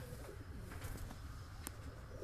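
In a breeding loft for high-flying pigeons, low coos rumble quietly against a constant hum, with scattered short clicks and chirps and no voices.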